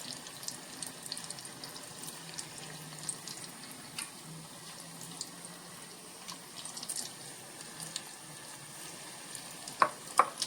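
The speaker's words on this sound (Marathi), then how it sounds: "खरपुस खरपूस तळून घ्यायच्या आपण तेलामध्ये" Bhaji fritters fry in a pan of oil with a steady, faint bubbling hiss and occasional small crackles. Near the end come a couple of sharper clinks.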